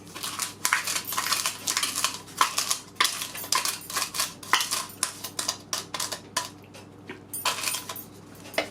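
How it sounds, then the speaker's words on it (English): A utensil stirs sugar into yoghurt cake batter in a bowl, a quick run of close, bright clinks and scrapes against the bowl in an uneven rhythm, steady and fairly loud with no talking. "Just stir it around as I go along because it just makes it easier to do it like that"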